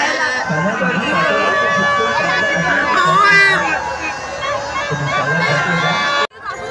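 A dense crowd at the Chhabina festival in Mahad, Raigad, fills the air with continuous babble, shouts and distant cheering, with people talking close by over the hubbub.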